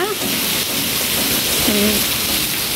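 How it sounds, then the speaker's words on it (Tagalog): Steady rain falls outdoors in a wet street setting, a dense, even hiss throughout with brief faint tonal sounds in the background. "Sarap ng ulan eh."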